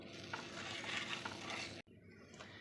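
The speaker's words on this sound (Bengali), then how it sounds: "একটু নেড়ে দেবো।" Potatoes cooked with salt and turmeric being stirred in a pan after water is added, a steady close scraping and bubbling sizzle, broken by a brief silent gap near the end.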